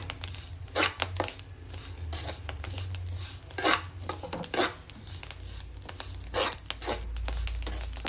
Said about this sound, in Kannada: ಎಳ್ಳನ್ನು ತೊಳೆದು ಒಣಗಿಸಿ ಹುರ್ಕೊಳ್ತಾ ಇದ್ದೀನಿ